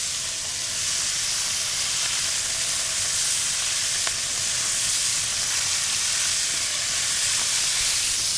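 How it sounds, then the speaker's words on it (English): Pork shoulder sears in a hot pan, giving a steady, loud, bright sizzle and hiss that fills the whole stretch without a break and with no talking over it. "Gently get our pork into this pan. You wanna hear that great sizzle?"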